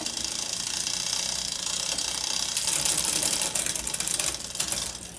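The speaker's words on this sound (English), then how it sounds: "Now just try shifting down through all the ranges." Bicycle rear derailleur shifting down through the gears, giving a continuous close ratcheting clatter of chain and cogs that grows louder and busier midway, with a few sharper clicks near the end.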